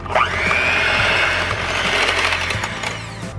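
Electric mixer beating eggs with salt and pepper, a loud continuous close whir with a rising pitch, dipping slightly in tone near the end, and no talk.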